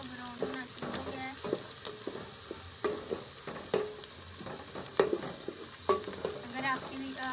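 Onions sizzle in a pan for chicken gosht while being stirred, a steady frying hiss broken by repeated scraping spoon strokes, close and moderately loud.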